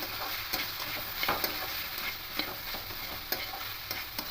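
Bitter gourd and potato with spices stirred in a pan: faint steady frying sizzle punctuated by regular scraping clicks of the spoon, with no talk.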